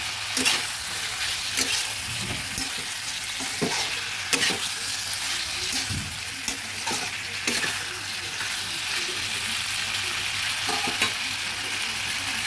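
Tomatoes and spices sauté in a pan for vegetarian koyash, a constant loud sizzle broken by repeated scraping stirs and spoon taps close by, with no talking.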